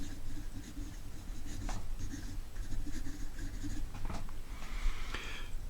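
A fountain pen filled with Robert Oster Jade ink scratches across cheap Staples copy paper in close, quiet strokes, with short bursts and pauses as letters are formed.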